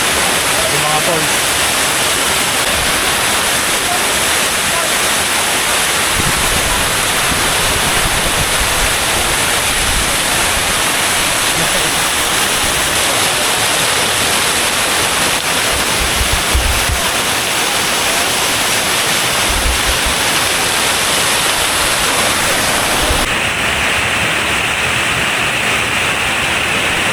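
Rushing water of a waterfall at Bato Springs, a cold spring resort in San Pablo, Laguna, a steady broadband roar filling the whole clip, close and loud, with a voice faintly under it.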